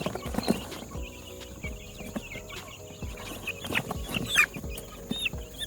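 Baby chickens from a crowded brooder, set outside in the breeze, cluck and peep in scattered bursts with some louder close calls, over a steady low background.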